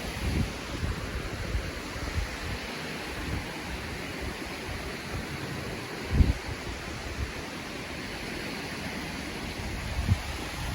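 Waves and wind at Hua Hin Beach, Thailand, a continuous wash of surf with heavy wind buffeting the microphone and a few louder gusts, no voices.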